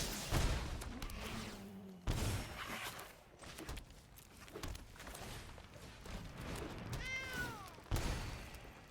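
Cartoon cat meowing in a video game, a short rising-falling meow near the end among clattering game sound effects and scattered sharp hits.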